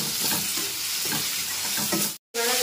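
Onion and tomato sautéing in a pan for chicken curry, a steady close sizzle with repeated scraping stirs, briefly cut off near the end.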